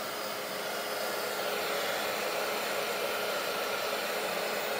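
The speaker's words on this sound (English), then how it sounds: "now I'm going to grab my blow dryer." A blow dryer runs steadily and loudly the whole time over paint puddles on a painted board, a constant close-up whooshing roar with no pauses.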